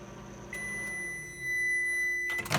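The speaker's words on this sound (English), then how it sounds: "the timer went off" A microwave hums steadily while a long high electronic tone sounds, then the hum cuts off and a few short beeps follow at the end.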